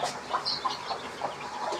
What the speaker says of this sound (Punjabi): ਚੌਦਾਂ ਚੂਚੇ ਨੇ